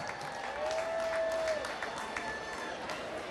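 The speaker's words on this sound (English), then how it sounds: "A good round of applause for our recipients this year." Audience applause for scholarship recipients at a feast parade event, a steady, fairly distant crowd clapping that continues evenly, with a brief whistle-like tone near the start.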